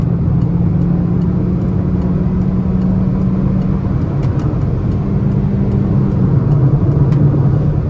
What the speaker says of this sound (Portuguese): Aqui, gente, ó, mais uma retomada pra vocês,